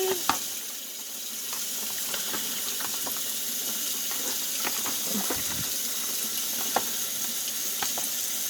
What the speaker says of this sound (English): Alright, just wash my hands here real quick.